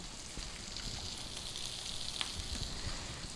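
Blackened salmon sizzles in a pan over medium-low heat, a soft, steady crackling hiss with faint pops, heard alone and fairly quiet.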